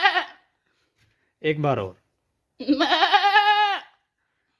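A man imitates a goat bleating: one long, wavering, nasal bleat sounds close and loud after a brief spoken line and a short voiced call.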